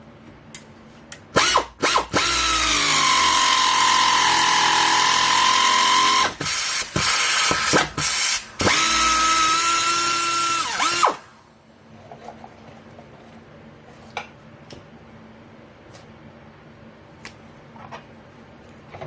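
Power tool spinning a 12 mm bolt loose from the rear strut of a 2007 Toyota Camry: loud ratcheting whir in several bursts over about ten seconds, then quiet with faint clicks.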